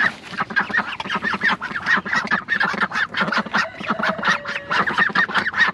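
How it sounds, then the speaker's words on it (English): A cluster of ducklings quacks loudly and repeatedly in a rapid, overlapping chorus from a canvas-covered coop on a cold morning, with no human voices. "We're letting some ducklings out here that are in this coop."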